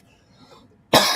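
A single sharp cough bursts out after a near-silent pause, loud and close, with a breathy rasp trailing off.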